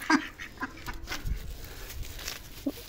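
Ducks fighting at close range, with scattered squawks and honking calls over a background of rustling and scuffling, fairly loud throughout and with no speech.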